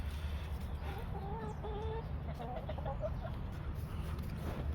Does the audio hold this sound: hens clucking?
yes